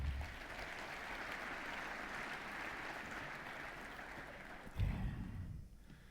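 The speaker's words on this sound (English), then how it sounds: "give yourself a round of applause." A convention audience applauds steadily for several seconds, a faint, even wash of clapping that swells briefly near the end before fading.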